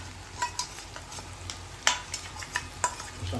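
A paste of poppy seed, cashew and green chili fries in oil under a low sizzle, with quick stirring scrapes and ladle taps repeating close up and no voices.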